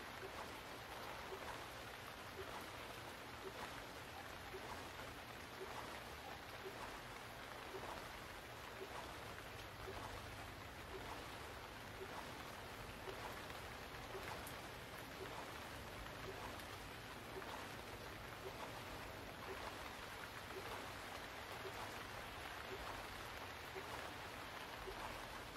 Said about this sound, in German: So laut wie dieser Regen auf meinen Headphone ist.